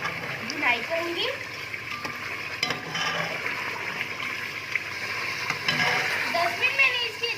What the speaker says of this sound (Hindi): अब मैं इसे 10 मिनट के लिए भुनाई करूंगी।